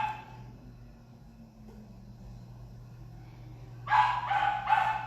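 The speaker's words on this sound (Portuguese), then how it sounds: "Aqui em casa tem um cachorro e o cachorro, quando abriu a garagem, ele faz a festa" A house dog barks excitedly as the garage door opens at home: three quick, fairly loud barks burst out near the end after a few seconds of steady low hum.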